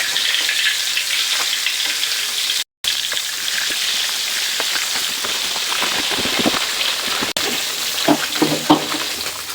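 Pota fish fry in hot oil, producing a loud, continuous sizzling hiss like heavy rain, with scattered pops and spatters growing busier toward the end and no talking.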